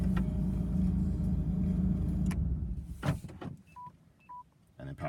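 A Toyota MR2 Turbo with a 3S-GTE engine idles with a low hum until a keyless push-button press shuts it off abruptly, followed by a few short electronic beeps and a click in the quiet cabin.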